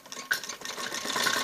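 A sewing machine stitches around the neck of a kameez jacket in a short, rapid whirring burst that swells slightly toward the end, close by and without speech.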